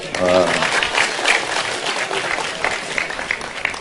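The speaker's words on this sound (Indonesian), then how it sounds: "Tepuk tangan untuk beliau." An audience bursts into lively applause that carries on for several seconds, with a voice briefly speaking over the opening of the clapping.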